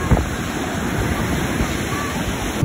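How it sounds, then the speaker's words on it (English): Large ocean waves break and wash continuously along a beach, a steady loud broadband roar with wind buffeting the microphone throughout. "these waves are actually pretty big"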